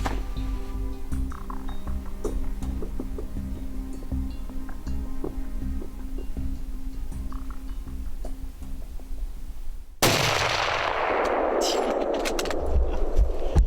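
A single rifle shot fired at a deer on a Michigan hunt, at about 216 yards, cracks loudly near the end after a long quiet stretch of ambient outdoor sound.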